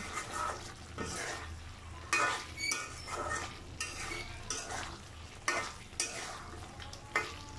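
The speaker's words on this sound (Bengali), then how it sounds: "আমি ভালোভাবে নেড়ে নিচ্ছি যাতে কলিজার সাথে মশলাগুলো আরও ভালোভাবে লেগে যায়" Goat liver being stirred with spices in a pan, with a series of scraping, clattering spoon strokes against the metal over a low sizzle, close and with no talking.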